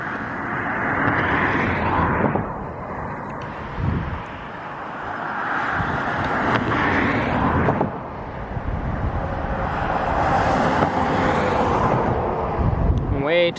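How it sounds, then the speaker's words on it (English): Cars pass on a road in waves of tire and engine whoosh, several swelling and fading one after another through wind noise, with a voice heard talking over them. "Way too many stupid cars out here."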